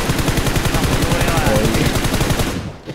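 Automatic weapon fire in the PUBG Mobile video game, a loud, continuous rapid-fire burst of shots lasting about three seconds before trailing off.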